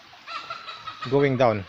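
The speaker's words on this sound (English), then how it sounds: "It's just a chicken running from something unknown." A hen clucks in short bursts as it runs near a creek, loud and close toward the end, after a softer stretch with a brief spoken phrase.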